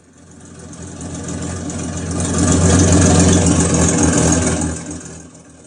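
Synthetic engine idling from the Beier USM-RC3 sound unit of an Armortek Tiger model tank, swelling louder to a steady rumbling drone, then fading back down.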